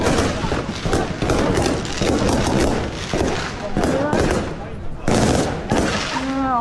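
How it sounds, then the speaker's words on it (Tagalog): Rapid crackling bursts and booming pops of fireworks at Shifen, Taiwan, go off in dense, loud volleys, with voices of a crowd chattering underneath. "Fireworks."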